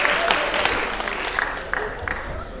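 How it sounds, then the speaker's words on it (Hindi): A hall audience at a Hindi comic poetry gathering claps steadily in a dense, continuous round of applause, with a few sharper claps standing out. "एक बार पूरा सदन तालियां बजा करके मुझे आदेशित करे"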